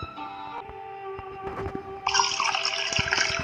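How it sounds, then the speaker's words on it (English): Water pouring into a bucket in the video game Nowhere House, first a thin trickle and then a louder, steady rush of filling water that continues to the end. "Okay, can we cut on the water?"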